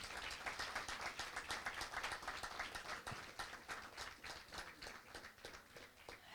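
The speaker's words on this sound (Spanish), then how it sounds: "para quien yo quiero pedir un fuerte aplauso" Sustained applause and clapping from an audience at a film forum screening, greeting author Pedro Valdés; dense, steady clapping with no talk over it, fairly faint and distant.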